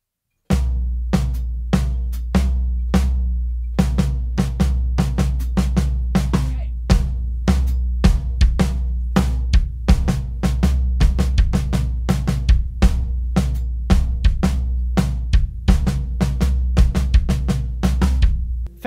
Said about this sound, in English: The hands combined with a quarter note pulse on the hi-hat sound like this.